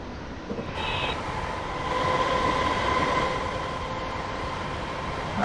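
A London Midland Class 321 electric train in Train Simulator accelerating at full throttle, a steady rumbling roar with a sustained motor whine that swells slightly and holds, heard alone with no talk.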